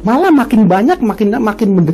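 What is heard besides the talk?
No distinct noise like a dog, phone or traffic.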